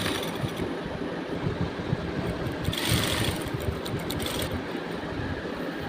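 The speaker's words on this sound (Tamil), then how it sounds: "அப்படியே திருப்பிட்டு இதை இந்த சைட்லேயே ஒரு எட்ஜி தையல் போட்டு வரலாம்" A sewing machine runs an edge stitch along a blouse sleeve for puffed sleeves, a steady close motor hum with a fast, even needle patter throughout and no talking.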